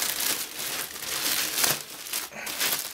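Cardboard backpack box for an Incase Nylon Compact Backpack being cut open, giving a steady close run of crinkling, scraping and tearing packaging noise with a few louder rips and no speech.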